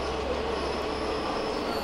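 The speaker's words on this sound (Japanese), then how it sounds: "乗客30人を乗せた観光列車、ある列車は、午後2時過ぎ" Sightseeing train arriving at Aso Station, a loud continuous rumble of rolling wheels with steady squealing and rail noise close by throughout.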